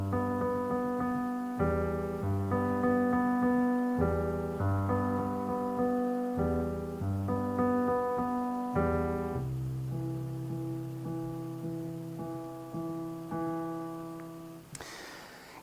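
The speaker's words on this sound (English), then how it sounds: "So the full introduction and the verse, once round, would sound like this." Solo piano plays the introduction and verse of a song, with repeated chords over sustained bass notes, steady and clear throughout.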